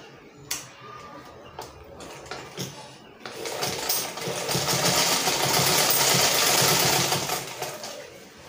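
Sewing machine stitching Ankara print fabric for a child's polo shirt, starting with a few separate clicks and short taps, then running in one steady, close stretch of stitching with no talking.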